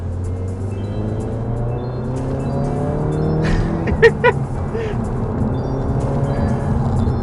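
A sporty family car accelerating, its engine note rising steadily and loud throughout, with a couple of sharp brief squeal-like bursts midway.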